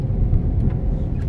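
Car interior on a rainy morning with windshield wipers running, a steady close low rumble of the road and engine filling the space, with faint periodic swishes over it.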